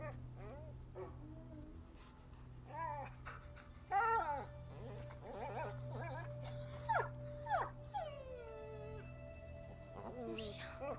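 A dog whimpers and yelps in the video game A Plague Tale: Innocence, with a string of high, wavering whines and short yips, some near and some fainter, over a low steady hum, with voices in between.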